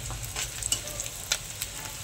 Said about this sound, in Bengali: কড়াতে আমি তেল দিয়ে দিলাম, কুচি দিলাম, কাঁচা লঙ্কা কুচি